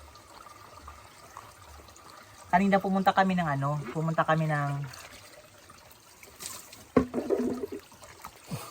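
Deep-well water trickling and splashing steadily during a bath on a hot summer day, running under conversational talk and continuing between the spoken phrases.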